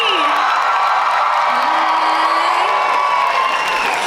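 Loud, sustained cheering from a packed convention hall as the K-Pop Demon Hunters voice actors are introduced, a thick wall of shouting, whooping and scattered clapping that never lets up.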